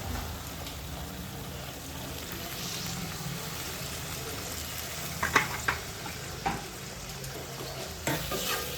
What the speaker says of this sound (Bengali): আমি আরও একটু সামান্য জল দিয়ে দেবো।